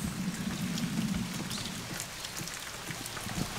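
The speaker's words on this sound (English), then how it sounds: "the rain at this point has just sort of gotten to the point where it's getting like... It's not like pouring or anything" Moderate rain falls on a hillside street in Nagasaki, Japan, a steady patter with scattered distinct drops close by, neither pouring nor light, and no speech.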